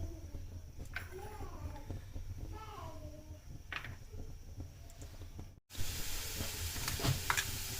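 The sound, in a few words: chopped garlic frying in oil in a non-stick pan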